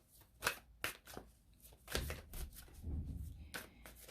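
Moonology oracle cards are shuffled by hand in a series of soft, quick riffling bursts and light slaps, quiet and close, with no talking.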